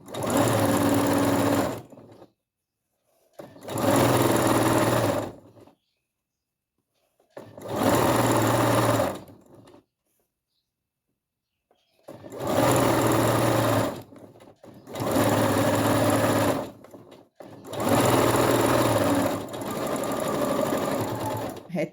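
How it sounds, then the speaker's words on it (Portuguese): Sewing machine stitching fabric in six loud, even bursts separated by silent gaps, the final run trailing into a shorter backstitch to lock the seam. "Finaliza a costura com o retrocesso."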